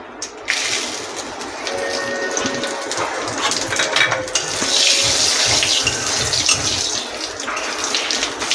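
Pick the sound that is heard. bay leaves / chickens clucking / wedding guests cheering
bay leaves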